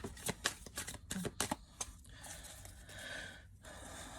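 Tarot cards being shuffled, a run of crisp riffling snaps and flutters up close that give way to quieter handling rustles and soft breathing.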